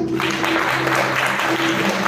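A church congregation claps together in a moderate burst of applause, sounding somewhat roomy and mixed with a steady hum from a sound system.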